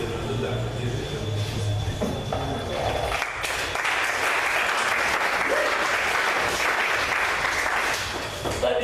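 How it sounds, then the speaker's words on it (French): Applause at a civil wedding ceremony, growing into a sustained burst of clapping from a gathered crowd that carries on steadily, loud and close. "nous demandons d'applaudir les gens"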